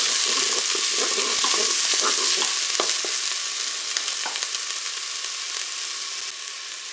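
Onion pieces dropped into hot oil in a Cookeo pot hiss and sizzle loudly, with scattered crackles and stirring clicks early on, settling into a steady frying sizzle that fades slightly toward the end.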